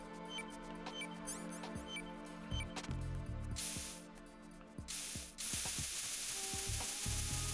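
Hiss of coolant sprayed on C4 in Metal Gear Solid 2: Sons of Liberty, a broad steady spray bursting on around the middle and again near the end, over ticking mechanical game effects and electronic beeps.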